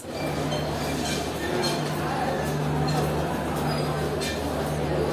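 Steady rumble and hum of the Saraighat Superfast Express and its coaches standing at platform 1 of Guwahati railway station, with a constant electrical drone, faint clinks and busy platform crowd noise throughout.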